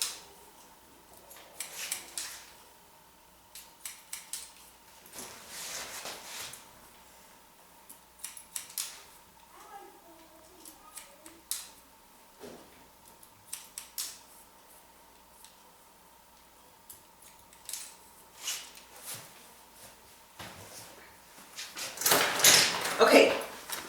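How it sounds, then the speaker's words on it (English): Texturizing shears with big teeth snip through hair during a short boys' haircut, giving scattered quick clicking cuts that come near and crisp, with a voice talking in between. "Then I'm going to take the texturizing shears."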